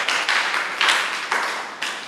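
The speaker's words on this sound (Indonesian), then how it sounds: "Tepuk tangan untuk Allah kita yang Maha Tahu." A group at an Indonesian church Bible lesson claps in a steady rhythm, about five evenly spaced bursts of clapping in quick succession, nearby and moderately loud, with no speech.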